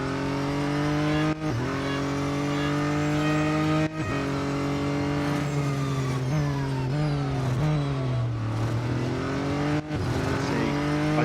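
A race car engine in the Real Racing 3 video game drones steadily at high revs with pitch shifts through gear changes and brief dips on downshifts, continuous and close without talk.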